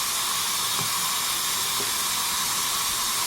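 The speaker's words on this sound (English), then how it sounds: "And I'll pour in the pepper mixture that I just blended and I'll let it fry." A blended pepper mixture poured into a hot pot fries with a loud, continuous, even hiss and sizzle that fills the short stretch without letup, with no talking.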